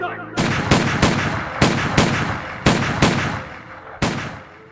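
Firing-squad volley effect from a radio drama: seven sharp, loud gunshots in an uneven sequence over about four seconds, each with a ringing decay, no voices during the shots.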